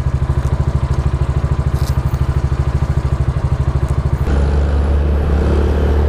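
A motorcycle engine idles to warm up, with a close, steady, rapid thumping pulse. Partway through, the tone shifts to a smoother, denser drone.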